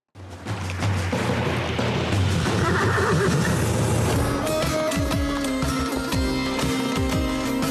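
An Akhal-Teke horse neighs amid a loud, busy outdoor celebration of Turkmen horses at an equestrian sports complex, with crowd noise and other tonal sounds filling the background.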